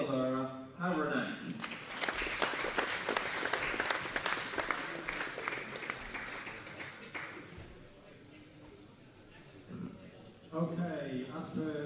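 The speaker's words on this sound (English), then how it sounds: "We're looking for louder clapping from now on." Spectators clapping at a 1/12th scale RC car racing European Championship final, a brief burst of applause between spells of announcer talk over a PA, fading out as the voice returns.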